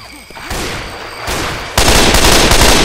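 Gunfire in the video game Left 4 Dead 2 comes as loud, dense bursts of rapid shots that grow heavier partway through, with a short quieter gap before the firing resumes.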